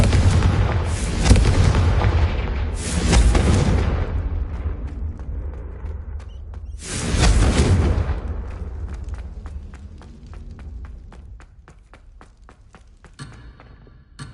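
Confringo blasting spell explosions in Hogwarts Legacy: several loud, booming blasts with crackling tails, the heaviest near the start and another around the middle, over a steady game rumble that fades toward the end.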